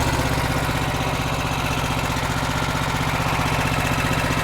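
Engine of an Allrounder machine, electric-started with a key, idling steadily: a loud, even, close mechanical drone with a regular throbbing pulse that holds unchanged throughout, with no talk over it.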